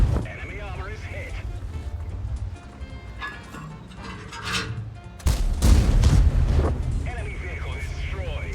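In a tank video game, an enemy tank is destroyed by a shot: a sudden loud, booming blast erupts midway and rumbles on for a few seconds, with a voice talking before and after.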